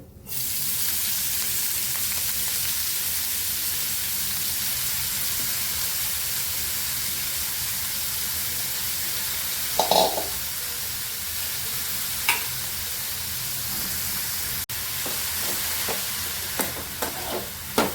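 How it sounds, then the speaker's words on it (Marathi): Chopped fenugreek leaves sautéing in hot oil in a wok: a steady, dense sizzle runs throughout, broken by a few brief scrapes and stirs of the spatula, with no one talking. "थोडीशी तेलावरती भाजी परतून घ्यायची"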